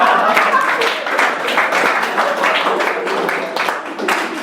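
A comedy show audience claps and cheers in a dense, steady burst that runs throughout, loud and close, with crowd voices mixed into the applause.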